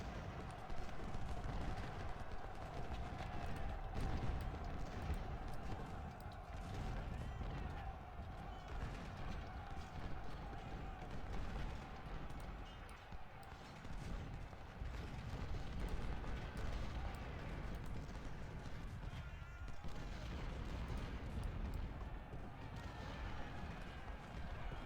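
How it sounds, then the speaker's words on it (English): Dense, continuous battle din from Ultimate General Civil War at Spotsylvania's Mule Shoe, artillery and musketry rolling together as a steady roar at even loudness throughout, with a faint tonal hum running underneath. "Which is going to get met with a lot of artillery."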